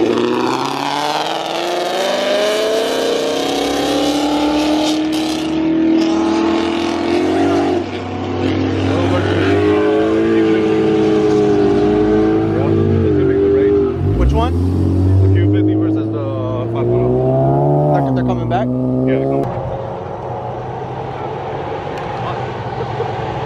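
Several cars revving and droning at a nighttime Florida street car meet, engine tones rising and falling in overlapping sweeps, loud and close, with people talking over them.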